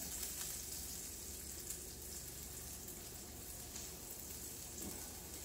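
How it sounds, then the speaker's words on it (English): Steady, crackling sizzle of avocado frying in a skillet, a continuous hiss with faint pops throughout and no talking. "I don't know if you can hear it sizzling, but it is sizzling."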